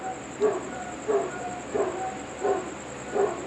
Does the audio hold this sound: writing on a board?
no